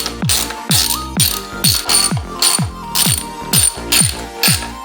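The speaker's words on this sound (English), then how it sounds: "Now that they're all in, I can tighten them down." A ratchet tightening bolts on a mountain bike clicks in about ten quick, loud, evenly spaced bursts, each a sharp metallic pawl rattle, close up and with no talk.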